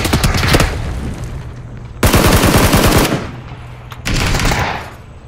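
Bursts of automatic gunfire in a battle royale video game come in three loud, rapid volleys, each lasting about a second, with brief quieter gaps between them.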